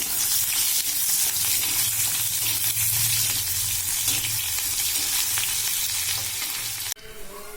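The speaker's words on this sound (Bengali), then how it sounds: "পেঁয়াজটাও মোটামুটি আমাদের ভাজা হয়ে গিয়েছে" Steady, loud sizzling of chopped onions frying in hot oil with bay leaf, dried red chilli and nigella seeds, a continuous crackling hiss with occasional stirring, then an abrupt shift near the end.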